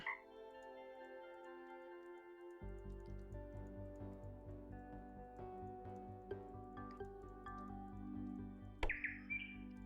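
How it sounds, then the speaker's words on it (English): Bird chirps from the game Delete After Reading, scattered short tweets over a steady musical drone, moderately loud, with a sharper call near the end. "Bird."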